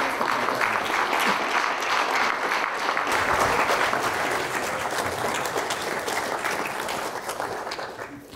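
A lecture-hall audience gives sustained applause to welcome a speaker, steady and dense throughout before slowly thinning toward the end.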